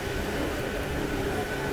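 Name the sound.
MEMU train halting at Dharmavaram Junction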